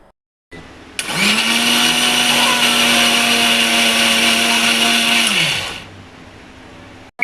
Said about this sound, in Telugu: కొద్ది కొద్దిగా వేసుకొని మిక్సీ పట్టుకోవాలండి